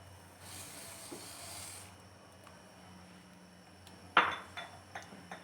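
Spoon working sugar into boiled milk in a pot: a quiet steamy hiss, then a few sharp metallic clinks against the pot close by near the end, no talking.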